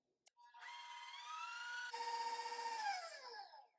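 Electric hand mixer whirring through sweet potato cheesecake batter with heavy whipping cream added, a steady motor whine that shifts pitch partway through and then winds down, close and alone.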